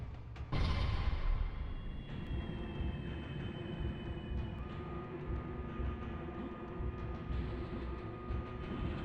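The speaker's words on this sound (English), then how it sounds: "Army train, target is on the left." A military train rumbles past in a PlayStation One video game, a steady, loud, continuous rolling roar with faint metallic tones, filling the whole stretch without speech.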